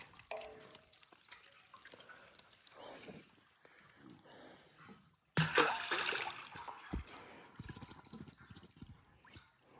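Water runs from a tank into a metal pot outdoors in rural Palghar, splashing and dripping steadily before a louder surging gush about halfway through, with faint background noise.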